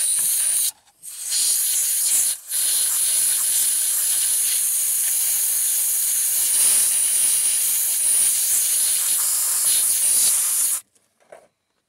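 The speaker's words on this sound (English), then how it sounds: "we'll just blow it out with compressed air right in the module there." Compressed air blasts into the airbag module of a 2001 Toyota Camry as a loud, steady, close hiss that breaks off twice briefly near the start, then runs continuously until it cuts out abruptly near the end.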